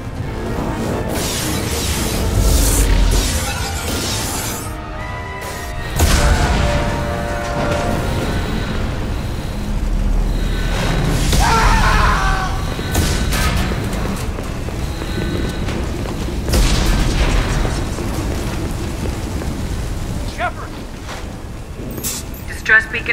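Explosions and hull breaches rock a starship in Mass Effect 2, with heavy booms and crashing impacts rising and falling under urgent spoken dialogue and alarms throughout.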